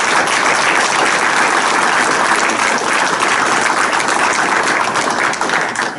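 A large crowd at a Belmar council meeting claps steadily and loudly for several seconds, a dense, continuous applause with no pauses.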